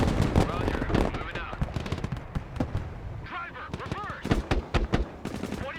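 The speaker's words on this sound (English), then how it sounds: "Putting great suppressive fire on the enemy." Sustained suppressive gunfire in the military strategy game Broken Arrow, a rapid cluttered stream of shots and bursts over five seconds with scattered louder cracks, with speech mixed in.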